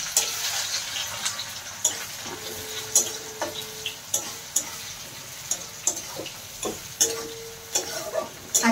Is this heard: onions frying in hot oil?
yes